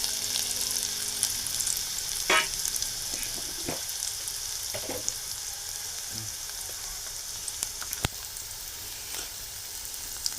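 Onion, curry leaves and turmeric frying in hot oil, a steady close sizzle with occasional sharp crackles and pops, no voices.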